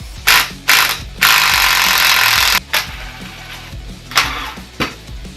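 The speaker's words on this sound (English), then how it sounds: "there's a bolt up here, a bolt down there we gotta take out" A ratchet wrench works on the radiator mount bolts of a Mazda RX7 FC, close and loud, with several rapid clicking bursts and one long sustained run of ratcheting, separated by short pauses.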